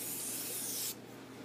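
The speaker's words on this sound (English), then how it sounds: "now you can either put baking spray" Baking spray hisses onto a plate while bird treats are being made, a steady close spray lasting about a second before it cuts off abruptly. No one speaks.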